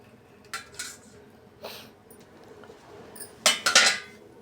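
A metal cooking pan being handled while melted jaggery is filtered, giving a few short scattered clinks and scrapes, the last burst a quick cluster of louder metallic knocks.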